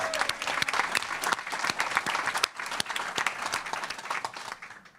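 A room of people at a regular board meeting claps steadily for about five seconds, dense and fairly close, tapering slightly at the end with no speech over it.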